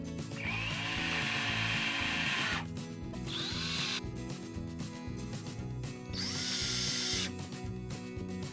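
A power drill drives a Phillips head screw into the foot bracket of an RV window awning, its motor whining loud and close in three sustained bursts that rise in pitch, with a lower hum and rattle between them.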